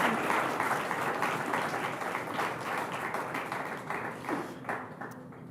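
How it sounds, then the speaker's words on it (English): Audience applause fills a hall at the Hindustan Times Leadership Summit, a steady dense clapping that holds for several seconds and thins slightly toward the end. "So another round of applause, please, for Hina Sidhu, PV Sindhu, and Hima Das."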